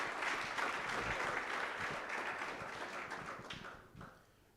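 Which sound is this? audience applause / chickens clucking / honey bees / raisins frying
audience applause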